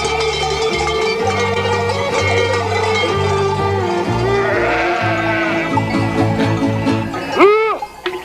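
A shepherd's flock of sheep and goats in snowy Greek mountains bleats repeatedly and overlapping, close and loud, with bells jingling steadily underneath and a long rising-falling cry near the end.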